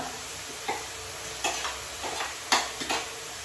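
Garlic is stirred through onions sizzling in a frying pan, giving a constant hiss broken by several sharp scrapes and clicks of a spoon against the pan at uneven intervals.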